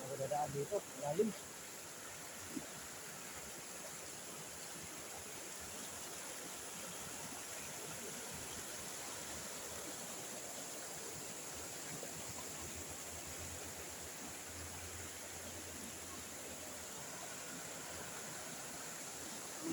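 Rushing river water with strong, fast current, a steady broadband roar running without a break. A few faint bumps and voices are heard near the start.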